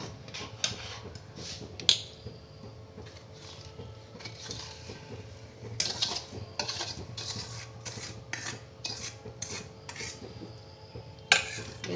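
A spoon stirs date palm jaggery into cooked rice payesh in a pot, making repeated scraping and rubbing strokes with occasional sharp taps on the rim, close and without talk.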